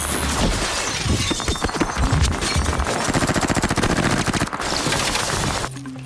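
Rapid gunfire and shattering glass from a thriller film, a loud burst of repeated shots lasting several seconds, with crashing and breaking mixed in before it cuts off abruptly.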